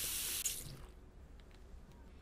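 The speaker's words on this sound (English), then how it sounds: "Turn on your sink and fill your sugary pumpkin bucket with water." Water gushes into a sink in a cooking simulator video game: a loud hissing rush at first, then a quieter trickle and faint drips as it settles, with no talk.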